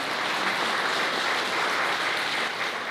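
Wedding guests applaud just after the marriage is declared at a ceremony in a wedding hall, a dense, steady wash of many hands clapping at an even level throughout, with no voices over it.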